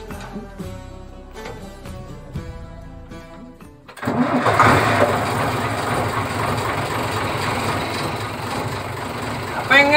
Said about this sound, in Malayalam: 91 മോഡൽ അശോക് ലെയ്ലാൻഡ് എഞ്ചിന്റെ ഒരു ശബ്ദം കേൾപ്പിക്കാനായിട്ടാണ് വന്നത്